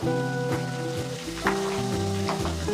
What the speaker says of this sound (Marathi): चांगली खरपूस अशी आपण तळून घेतोय ही